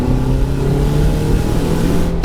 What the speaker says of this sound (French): Vas-y, accélère, accélère.